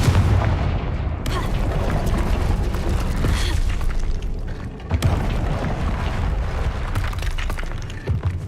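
In the Hogwarts Legacy video game, the Confringo fire spell sets off loud booming blasts. Rumbling explosions and crackling noise fill the clip continuously, with sharp hits near the start and again around the middle.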